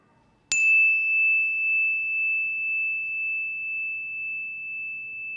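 A single bell struck once, its clear bright tone ringing out and slowly fading over several seconds in near silence.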